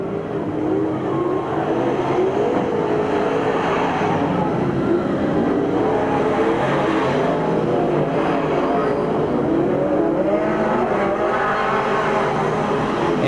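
Race cars roar around the oval at Merced Speedway during the 1989 Stofle Classic, a loud continuous wall of engine noise with rising and falling pitch as cars pass, steady for the whole stretch.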